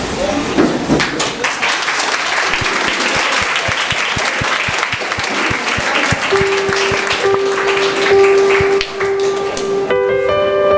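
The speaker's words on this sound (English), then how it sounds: "a huge round of applause." School Teachers' Day celebration crowd applauding loudly with rapid, rhythmic clapping, while near the end a sustained music tone and melody begin alongside.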